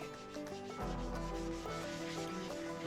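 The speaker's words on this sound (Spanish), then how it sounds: "le pasamos con la esponjita y le aplicamos a la superficie" A sponge rubs soapy white cleaning stone onto a motorcycle surface, making close, soft scrubbing swishes that swell and continue in a brief stretch with no voices.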